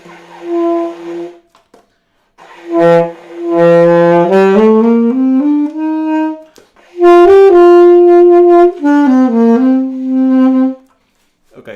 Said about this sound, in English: So let's see if this reed plays better.